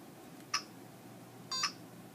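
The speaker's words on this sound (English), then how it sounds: "Once you hear it beep and say complete, you're good." A classroom robot gives two short, faint electronic beeps about a second apart after a program download finishes, against a low room hum.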